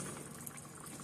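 Spicy carne asada taco filling simmering on low heat, a steady soft wash of bubbling and sizzling as the liquid cooks off, even and continuous with no talking.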